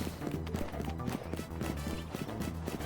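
Horse hooves in the video game Pokémon Legends: Z-A clip-clop in a steady quick rhythm over a constant hum of game music and ambience, moderately quiet.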